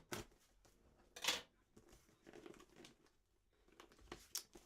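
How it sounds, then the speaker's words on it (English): Scissors snipping and crinkling through plastic packaging while opening a boxed Barney collectible, with a few sharp cuts and rustles close to the mic. "Do not use scissors like this at home"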